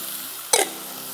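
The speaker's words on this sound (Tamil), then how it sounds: "கொஞ்சம் தண்ணி ஆட் பண்ணிக்கலாம்," Water splashes into a hot pan of green chillies for Andhra chilli chicken, a short hiss and sputter rising once over a steady background sizzle.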